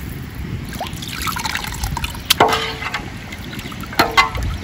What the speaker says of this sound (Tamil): இனி வந்து தண்ணி சேர்த்துக்கலாங்க அரிசி வேக.